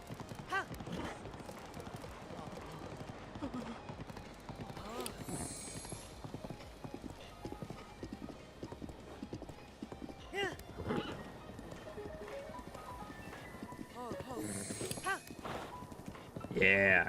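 A horse in The Legend of Zelda: Breath of the Wild clip-clops restlessly and whinnies, hooves beating irregularly while someone talks over it almost continuously.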